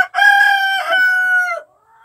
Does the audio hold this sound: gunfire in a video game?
no